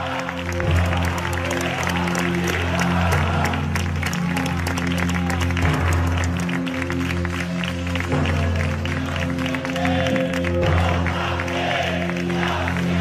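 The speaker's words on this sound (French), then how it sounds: "Applaudis par la foule," A crowd at an outdoor gathering in the Basque Country applauds as two hooded ETA members leave after laying down a flag, sustained clapping heard over a steady musical drone.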